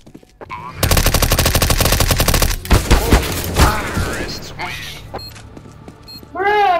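Sustained automatic gunfire from a first-person shooter match, dense rapid bursts filling the first half loudly, then scattered shots and game effects trailing off, with players talking over it.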